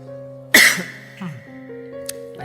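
One sharp cough from a person, close and loud, rising over a steady hum at an indoor talk on philosophy.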